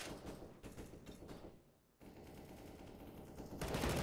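Sustained AK rifle fire in a Counter-Strike esports match, with dense overlapping bursts and sprays, a brief lull, then heavier firing building toward the end; no voices.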